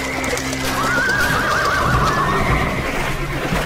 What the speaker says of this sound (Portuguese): Essa lama deixa os cavalos nervosos!